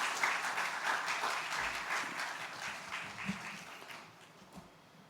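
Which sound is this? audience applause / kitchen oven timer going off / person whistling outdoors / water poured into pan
audience applause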